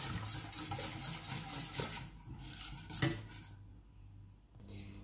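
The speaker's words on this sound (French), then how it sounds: "On mélange bien." Spoon scraping and clinking against a pot while stirring a cornstarch and caramel dessert mixture, with steady rasping strokes, one sharper clank near the middle and a quieter tail.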